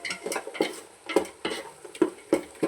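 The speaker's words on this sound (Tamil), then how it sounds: "நல்லா ஃப்ரை பண்ணுவோம், நல்லா வதங்கட்டும்." Onions and green chillies frying in a pan while being stirred, with rhythmic scrapes and clinks of a spoon against the pan every half second over a soft sizzle.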